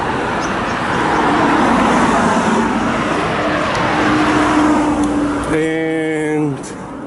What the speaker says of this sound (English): you can still see some of taxis working, driving around